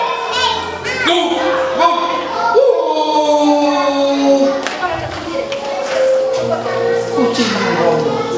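A performer's voice imitates a dog barking and howling during a children's stage show at a kindergarten farewell event, repeated yelps over a lively hall with children's voices and clapping nearby.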